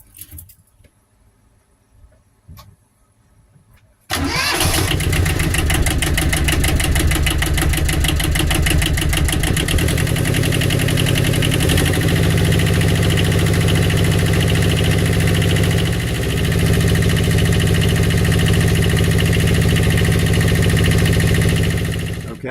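A Catalina 30 sailboat's inboard engine, fresh from a water pump impeller install, cranks after a few quiet seconds and catches, then settles into a loud, steady rattling idle that runs to the end.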